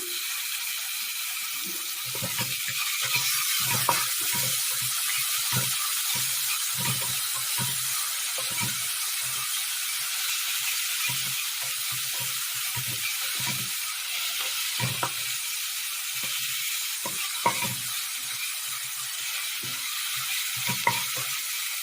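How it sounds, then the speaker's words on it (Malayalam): Sliced onion frying in oil with popped mustard seeds, a bright steady sizzle throughout while repeated soft stirring scrapes and taps recur in a loose rhythm. No voices. "കടുക് പൊട്ടിയതിന് ശേഷം അതിലേക്ക് സബോള ഇട്ടിട്ട് ചേർത്ത് കൊടുക്കുക"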